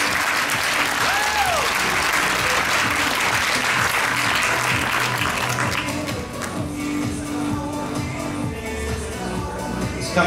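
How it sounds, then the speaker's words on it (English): Audience applause rings out for pro finalists at a women's sports model fitness championship, a loud sustained crowd clapping that eases after several seconds into a softer, thinner patter. "A big round of applause for our other pro finalists."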